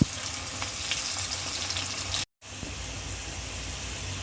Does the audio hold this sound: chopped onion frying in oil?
yes